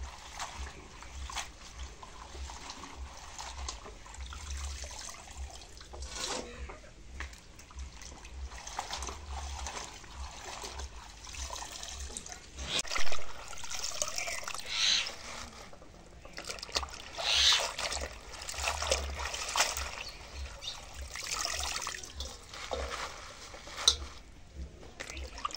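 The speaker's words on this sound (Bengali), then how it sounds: "এখন ধুয়ে নিই শাকটা।" Leafy greens being washed by hand in water in a home kitchen, with close splashing, swishing and dripping in irregular bursts over a faint low hum.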